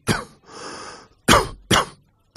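A person with a lung problem coughs, first with a sharp cough and a longer rasping breath, then with two more harsh, close coughs in quick succession.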